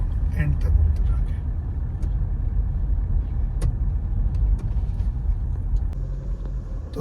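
A Toyota Fortuner 4x4 automatic, about three and a half years old, drives along with a steady, heavy low rumble of engine and road noise close inside the cabin, dotted with a few light clicks.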